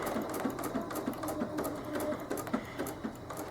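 Domestic sewing machine running steadily at a slowed, controlled speed while quilting a blanket or buttonhole stitch, a close, even mechanical chatter with regular rhythmic pulses throughout.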